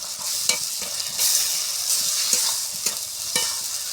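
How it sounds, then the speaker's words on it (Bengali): Potatoes sizzling loudly in spiced oil in a pan, a bright continuous fry broken by regular scraping knocks of a spoon stirring, close up with no talking. "মশলা থেকে তেল ছেড়ে দিয়েছে এবারে আলুটা দিয়ে দেবো"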